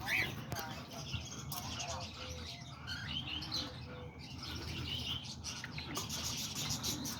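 A pet parakeet chirps and tweets in quick bright bursts, close by in a room among other birds, with background rustling and faint ambient noise.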